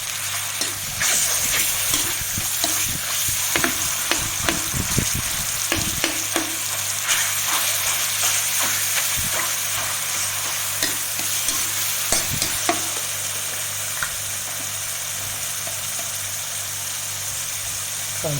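Tofu being stir-fried and broken up in a pan, with a steady sizzle and frequent scraping, stirring clicks throughout, and no talking.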